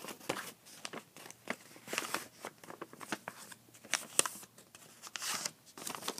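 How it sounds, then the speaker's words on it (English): A sheet of paper is creased, folded and squash-folded while making an origami dragon, giving soft, irregular crinkles and rustles close by, with quiet gaps between handling sounds. "fold it in diagonally half again, and then open it and then squash fold it"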